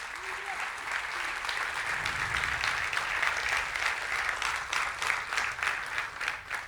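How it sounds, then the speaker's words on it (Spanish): A church congregation breaks into sustained, even applause during a sermon, many hands clapping at moderate volume with voices mixed beneath. "Dele un fuerte aplauso a Dios por eso."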